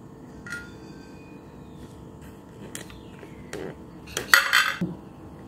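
A knife cutting a freshly baked, soft and fluffy microwave sponge cake into pieces, with scattered light clinks and scrapes of blade against the dish, ending in a short burst of louder clattering.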